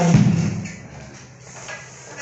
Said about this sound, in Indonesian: Jadi kalau digabung bunyinya seperti ini.